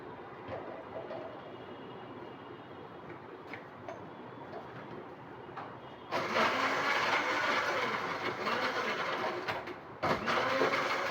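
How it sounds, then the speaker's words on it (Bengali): A blender whirs while blending shahi lassi, a steady mechanical drone that jumps to a louder, brighter roar partway through, briefly dips, then resumes at full power. "এখন আমি এটা ব্লেন্ড করলে হয়ে যাবে শাহী লাচ্ছি"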